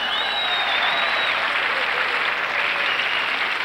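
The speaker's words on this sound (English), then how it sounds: "Keep clapping!" Audience applause at a comedy show, a loud, dense and steady clapping from a large crowd that continues without pause, with some cheering mixed in.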